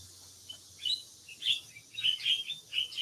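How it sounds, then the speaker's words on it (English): Birds chirp excitedly in a valley in Hualien, a burst of short, high tweets repeating in quick clusters over a quiet background, fairly close and moderately loud. "I know those birds are getting excited."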